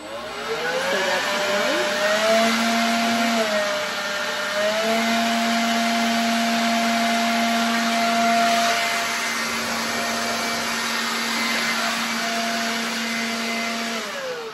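A Lazyboi cordless leaf blower runs continuously at close range with a loud, steady whirring motor tone and rushing air, its pitch dipping briefly once before settling again, and no voices.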